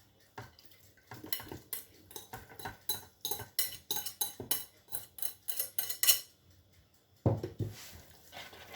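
Minced meat stirred in a pan, with a run of rhythmic scraping and clinking strokes, then a short pause before a few more strokes, close and moderately loud.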